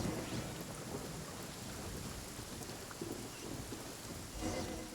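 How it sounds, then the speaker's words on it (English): A lightning storm in the video game Genshin Impact brings a steady wash of heavy rain with low rolling thunder underneath, quiet overall and without any speech. "Uh-oh! Lightning storm!"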